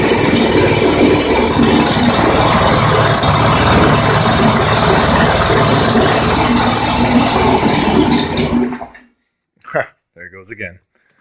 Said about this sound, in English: Not the nicest running motor,